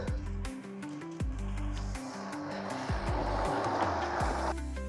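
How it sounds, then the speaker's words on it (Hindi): A car drives by slowly on a snow-covered road glazed with black ice in snowy Manali, its low engine rumble steady and close, with a steady hiss of snowfall behind it. "साइड इसलिए बोल रहा हूँ क्योंकि गाड़ी जा रही है ना, स्लिप कर सकती है"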